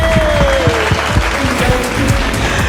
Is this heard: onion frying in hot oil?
no